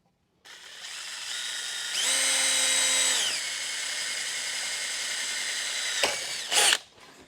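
A power drill bores a hole in sheet metal, whirring up loudly, rising in pitch and then settling into a steady grinding drone, with a brief stop and a final short burst as it finishes.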